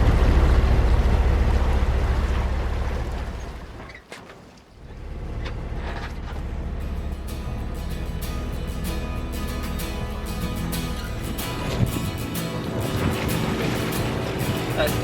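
A sailboat's engine drones steadily as it motors beneath wind and splashing water, with voices talking over it throughout.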